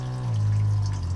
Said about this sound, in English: when I open my tap, my pump automatically comes on once the water pressure drops, like so